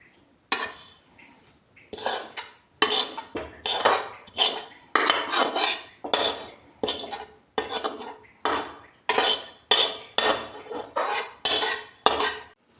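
Roasted coconut and oil scraped out of a pan into a metal tray, heard as about a dozen loud, rhythmic metallic scraping strokes close by, each separated by brief pauses.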